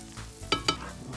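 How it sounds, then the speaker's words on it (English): Minced garlic cooks in melted butter over low heat, a quiet sizzle with two sharp stirring clicks close by, and no one speaking. "And we're going to add 4 garlic cloves, minced."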